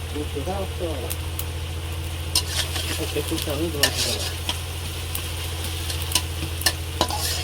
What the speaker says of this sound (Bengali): এই যে পেঁয়াজ ভাজা হয়ে গেছে